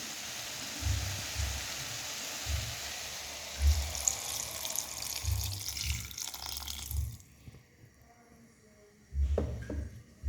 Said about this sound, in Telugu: ఇప్పుడు మనం ఈ సొరకాయ ముక్కల్లోకి మనకు కావాల్సినంత వాటర్, అంటే గ్రేవీకి సరిపడినంత వాటర్ అయితే మనం దీంట్లోకి వేసుకోవాలి